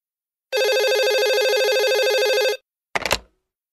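A telephone rings steadily for about two seconds, a loud, even electronic trill with no talk, followed by a brief clatter like the receiver being picked up.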